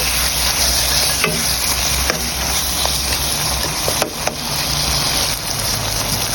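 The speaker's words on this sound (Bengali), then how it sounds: "শুটকি দিয়ে আবারও ভালোভাবে নাড়িয়ে নেব" Washed dried fish is stirred into a spice paste sizzling in released oil, a loud, continuous close frying hiss broken by occasional spatula scrapes and knocks.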